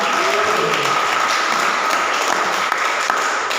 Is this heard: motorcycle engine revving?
no